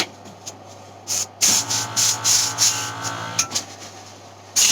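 An airbrush sprays thinner to flush a clog of red paint, giving several short hissing bursts of varying length separated by pauses, fairly close.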